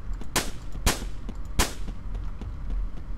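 Gunshots from hip-fired weapons in the Roblox survival game Apocalypse Rising: three loud, sharp cracks in quick uneven succession, followed by fainter distant shots and low background rumble, with no talking.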